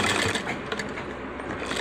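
A sewing machine stitches buckram along the edge of a shirt front placket, a steady, close mechanical whirr running without pause.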